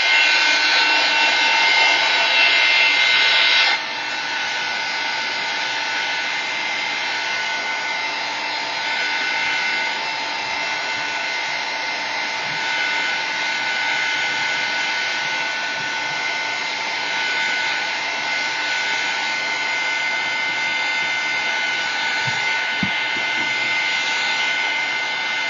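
A handheld dryer blows on a scrap-paper craft project with a loud, steady whooshing roar that runs for about 25 seconds, dipping slightly after the first few seconds, with no talk.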